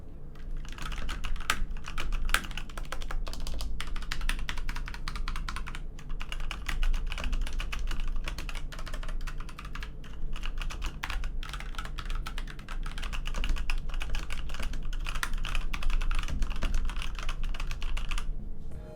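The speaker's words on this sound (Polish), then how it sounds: "Jeżeli natomiast chodzi o dźwięk klikania, to prezentuje się on właśnie w taki sposób." Steady, continuous typing on an Endorfy Omnis mechanical keyboard with Pudding Red switches, crisp, rapid clicks, close and fairly loud, with no voices.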